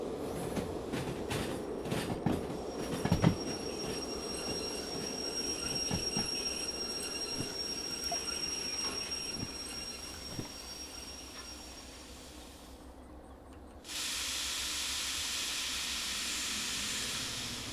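A train in the Derail Valley simulator game rumbles and clanks with wheel clicks and faint squeals as it backs past a switch, ending in a steady hiss.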